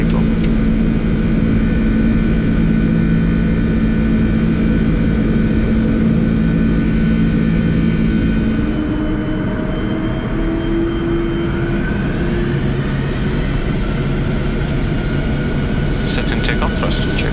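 Four jet engines of a Boeing 747-400 roar steadily during the takeoff climb, a loud continuous rumble heard from the cockpit with shifting tonal whines. Crew voices speak over the engine noise.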